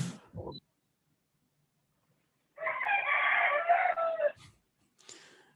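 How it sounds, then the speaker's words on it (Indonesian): A rooster crows once, loud and fairly near, a long drawn-out call that stands alone between stretches of silence, with a few brief thumps and rustles before and after it. "banyak kali kokok ayam"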